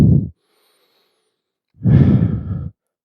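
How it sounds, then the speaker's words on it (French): Heavy exhalations during a HIIT cardio and ab workout: a short breath cut off at the start, then after a pause one long, loud, close sigh-like outbreath. "Respire"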